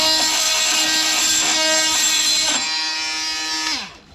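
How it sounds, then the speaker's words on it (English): A battery oscillating multi-tool buzzes in a steady high whine while cutting a seam on a Rhino 3150 bush hog, loud and close, then winds down and stops near the end. "So I'm going to attempt to take my multi-tool here and take out, just kind of increase the length of that seam there."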